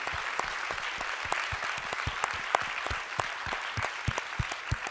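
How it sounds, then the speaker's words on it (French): A French-speaking audience at a talk on alternative therapies applauds the four speakers, steady dense clapping with many distinct sharp claps throughout, fairly close and continuous. "On peut vous applaudir"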